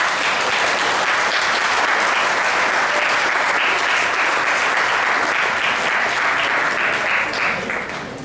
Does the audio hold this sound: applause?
yes